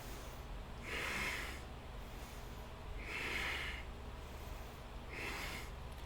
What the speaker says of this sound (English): Do a couple long, deep breaths.